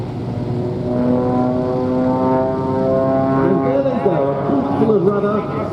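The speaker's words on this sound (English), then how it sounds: "They're going to pull up and perform what they call a formation slide-off." Two propeller aircraft perform a formation slide-off at an air show, their engines droning loudly and steadily with the pitch shifting as they manoeuvre, while a commentator talks over the sound.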